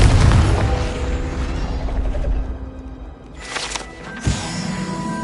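A Confringo fire-blast spell explodes in Hogwarts Legacy, opening with a loud booming burst that decays into a rumbling tail, followed by a few fainter magical whooshes and a sharp pop near the end.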